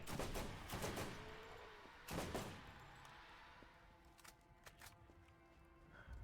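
Combat rifle gunfire in the Borderlands 1 video game: a few loud bursts of rapid shots near the start, then fainter, scattered pops over a low background hum.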